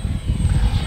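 Electric RC trainer airplane with a propeller droning steadily through loops and maneuvers, a continuous buzzing motor tone at moderate distance without any talk.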